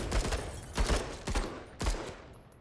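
Gunfire in the turn-based tactics game Menace comes as four heavy bursts spaced evenly apart, each a loud booming volley that fades into a rumbling tail before the next.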